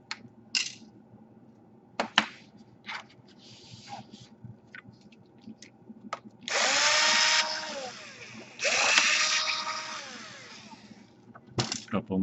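Screws being removed from an Asus G53 laptop during a DC power jack repair: a few short metallic clicks and taps, then two longer whirring bursts of a screwdriver, close and fairly loud, with no talk.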